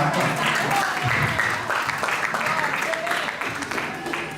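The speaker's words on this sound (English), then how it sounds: "oh, somebody's clapping for me" Scattered clapping from a small group, steady and moderately loud, with some voices murmuring underneath throughout.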